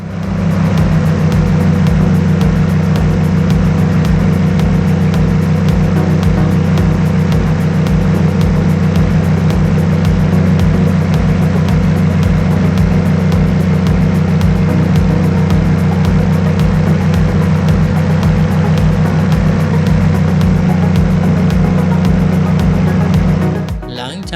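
A paramotor's small engine drones steadily at close range during flight over a bridge, a loud, even buzz with no break for the whole stretch.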